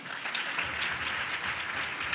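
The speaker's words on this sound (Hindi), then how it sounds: "तालियां हो जाएं" Audience applause at the Utsav 2015 cultural programme at Dev Sanskriti Vishwavidyalaya, Haridwar: a short, steady wash of clapping from a distant crowd, fairly faint, with no talk over it.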